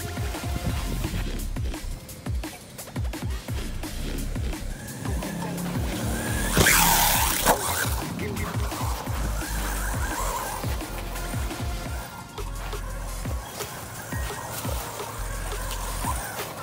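A Rlaarlo Amoril AM-X12 RC car drives through grass with a buzzing electric motor whine that rises and falls. Scuffs and rustles from the grass run under it, and a brief louder rush comes midway.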